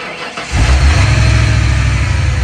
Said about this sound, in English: Now let's crank it, see if it's charging.